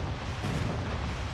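Airstrike explosions in the mobile shooter Call of Duty Mobile rumble as a dense, sustained roar of blasts under faint game chatter, with a brief high whine near the end.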